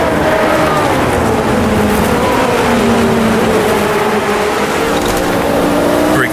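A Formula 1 race car from a 1978 Austrian Grand Prix simulation in a video game, its engine droning loudly and continuously as the throttle eases off, the pitch sliding downward with other cars' engines blended around it.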